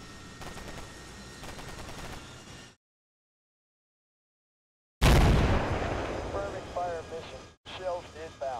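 Gunfire in Combat Mission: Black Sea comes as a string of quick rattling shots, then after a gap of silence a loud heavy burst and further firing, with a voice talking over the battle.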